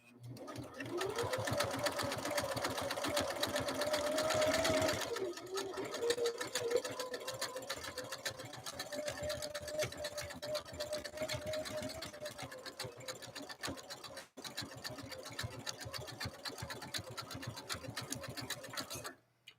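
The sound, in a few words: Husqvarna Viking sewing machine stitching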